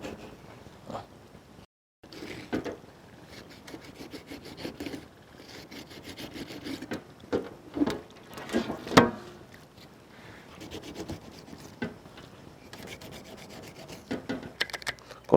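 A knife scores deep lines into a large 6.5 kg kalanchi fish, making repeated close rasping, scraping strokes in uneven bursts, with no talking.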